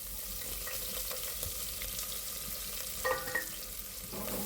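Chopped medium onion frying in hot oil with fennel seeds and a bay leaf in a pressure cooker, a steady close sizzle with brief stirring scrapes partway through.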